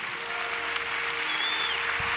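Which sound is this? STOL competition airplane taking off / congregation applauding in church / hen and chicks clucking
congregation applauding in church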